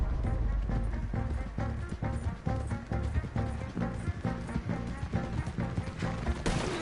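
Horse hooves clip-clop at a fast, rhythmic gallop in a Red Dead Redemption 2 gunfight scene, loud and close with scattered crashes and a faint voice.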